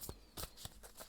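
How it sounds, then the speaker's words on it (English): Tarot cards shuffled by hand in a few short bursts of riffling, close and quiet, with no talking. "shuffle and see what the cards have to say about this person who is stalking your social media"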